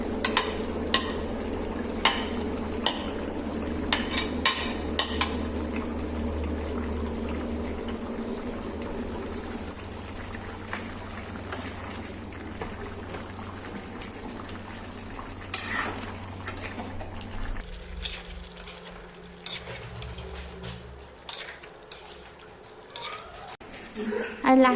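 Onion and tomato tipped into butter chicken frying in a pan, stirred with a clattering spoon and sizzling steadily; speech is heard over the cooking.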